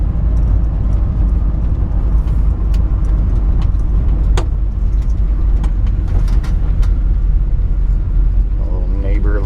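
A 1954 Ford F100 pickup cruising along a road, its engine and exhaust giving a loud, steady low rumble throughout, with scattered clicks and a brief voice near the end.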